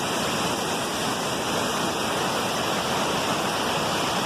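A waterfall pours down onto rocks below with a constant, close rushing roar and no pauses.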